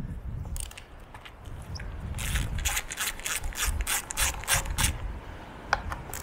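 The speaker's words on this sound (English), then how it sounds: "So we'll chuck that in the end of the screwdriver. And let's whiz that off the back there." A screwdriver fitted with a TX25 Torx bit backs a screw out of the rear of a petrol strimmer, making close, repeated bursts of ratcheting clicks and scraping over a low mechanical rumble.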